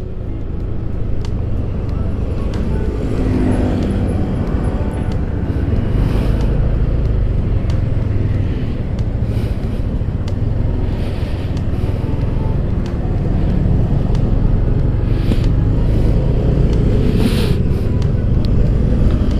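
Fast vehicles rush past on a road near the Balikpapan-IKN toll project, a loud continuous roar of traffic with repeated passing swells and wind buffeting throughout.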